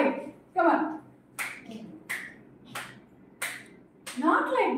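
A school class claps in a set rhythm on a teacher's count, giving sharp group claps spaced about every two-thirds of a second, with spoken voices between the claps.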